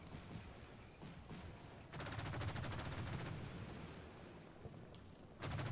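Gunfire in the war video game Combat Mission: Shock Force 2, a sustained rattling machine-gun burst in the middle and another at the end, with scattered distant shots and faint rumble between.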